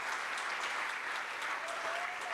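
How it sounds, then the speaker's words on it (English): Steady applause from a conference audience at an entrepreneurship conference, a dense, continuous patter of many hands filling the room at even loudness throughout. "Why don't we try to give a big applause for this?"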